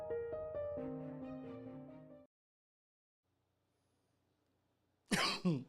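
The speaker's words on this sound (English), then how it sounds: "I had to cough the second I hit the button" A tonal hum fades into silence, then one abrupt, harsh cough bursts out close and loud at the end.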